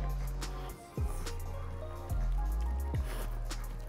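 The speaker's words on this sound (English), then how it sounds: "Drizzle some butter on that." Melted butter drips and squishes onto fresh snow crab meat at a buffet, a few distinct wet plops about a second apart over a constant low room hum.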